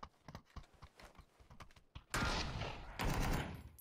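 Rapid video game gunfire crackles in dense bursts, first as scattered sharp shots, then in two loud, sustained volleys that dominate the second half.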